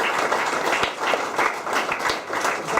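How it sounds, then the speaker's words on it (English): A room full of attendees at a music and meditation session applauds, with loud, dense clapping pulsing in uneven surges, heard on its own without talk. "Give yourself a round of applause."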